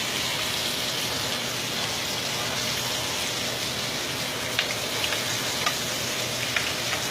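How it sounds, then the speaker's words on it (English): A porterhouse steak cooks well done in a buttered pan, producing a loud, dense, continuous sizzle like heavy rain, with a few small spits and pops toward the end. "As it cooks, all the juice on that fantastic looking steak, we're going to let it cook."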